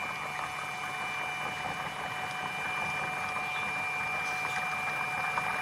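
A three-phase magnetic motor with eight alternating magnets on its rotor spins at 20 Hz, giving a steady, continuous whirring hum with a faint high whine, unbroken and close by.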